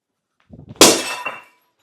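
A ball smashes a house window, a few light knocks followed by one sharp loud shattering crash of glass and a short tinkling tail of falling shards, close.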